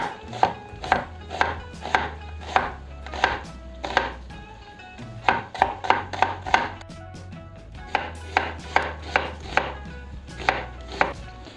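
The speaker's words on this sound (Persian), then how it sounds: "یه دونه و نصفی پیاز متوسط یا یه دونه پیاز درشت رو خیلی خوردشون میکنم" A knife finely chops onion on a board for Shirazi ghanbar polo, steady rapid taps in bursts with short pauses, close and clear with no talk.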